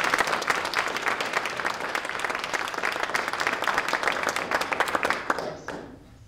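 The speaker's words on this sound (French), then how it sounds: "Je vous en prie, applaudissez mon compatriote Stanislav" Warm applause from an audience at an art exhibition opening honoring the artist, many people clapping steadily and close by for several seconds before it quickly dies away.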